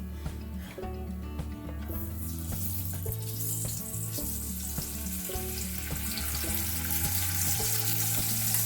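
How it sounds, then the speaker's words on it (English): Bacon frying in a pan beside pancake-making, a loud, steady hiss of sizzling grease building and brightening over several seconds, with crackling pops scattered throughout and background music underneath. "He immediately starts freaking out, popping up grease."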